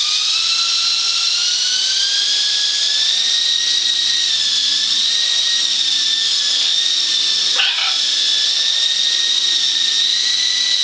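A model helicopter's motor and rotors whine steadily at high pitch, loud and close, a sustained tone that shifts slightly as the rotor speed changes, with no talk.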